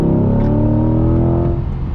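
C8 Corvette mid-engine sports car accelerating hard through turns, a loud steady engine drone with rising harmonics close up, continuous for two seconds with no talking.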